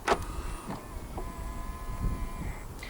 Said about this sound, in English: To lock the car, press the button on any of the front door handles.